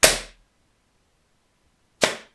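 Two sharp shots from a Novritsch SSG-10 airsoft sniper rifle, each a short dull thud with no ringing after, spaced about two seconds apart and close to the listener.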